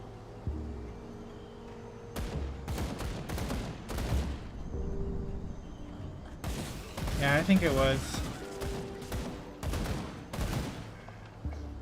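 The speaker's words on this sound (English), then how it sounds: "the gunshot sound effect may be loud" Gunfire from the Grim Dawn video game rings out in sharp repeated bursts, loud and close, with volleys clustered through the middle and end while someone talks over part of it.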